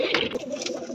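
Pigeons coo close by in a brief, soft, throaty burble.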